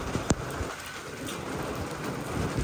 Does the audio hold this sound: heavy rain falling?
yes